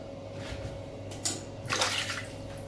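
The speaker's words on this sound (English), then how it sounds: "wet my head a bit." Water splashing and trickling from a running tap as a head is wet before shaving, a steady close stream with a couple of louder splashes partway through.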